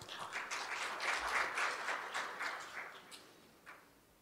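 An audience at a dangerous goods international transport seminar in Korea claps in a dense, steady applause that swells and then tapers off, moderately distant, with no talking over it.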